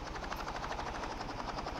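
Helicopter in the Rope Hero Vice Town video game: a continuous rapid rotor chop with a dense whirring beat, steady and even throughout, with no voices.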